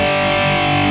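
A loud, sustained distorted electric guitar chord played through a Valeton GP200 multi-effects unit, holding steady for about a second with no one talking.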